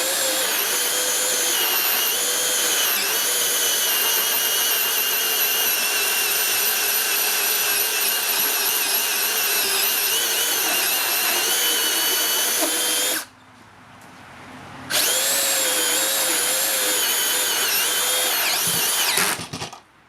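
A Milwaukee M18 Super Hawg cordless right angle drill runs in low gear with a loud, steady whine that stops abruptly for about two seconds, then spins back up and cuts off near the end.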